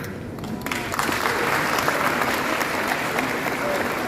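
Audience applause fills a conference hall in Accra, a broad steady wash of clapping from many hands that holds at a constant level throughout.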